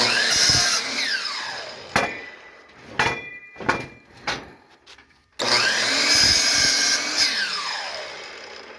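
A power tool trims a lumber board for pallets, with two loud runs of whining, spinning-down motor noise. Between the runs come a few sharp knocks and clatters as the wood is handled.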